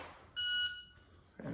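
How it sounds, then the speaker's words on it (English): A shot timer's buzzer sounds during a dry fire drill, a single short electronic tone, moderately loud, followed by a faint rustle. "I'm just wanting that dot on that piece of paper when the buzzer goes off"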